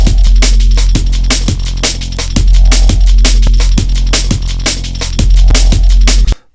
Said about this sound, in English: So this is just a simple kind of like a break and a bass line.